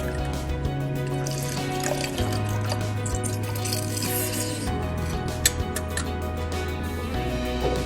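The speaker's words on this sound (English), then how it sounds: "in order to get 1 ounce out of a lemon, you will need to juice an entire lemon" Fresh lemon juice is squeezed by hand for a Sidecar cocktail, a faint trickle and drip of liquid running under steady background music.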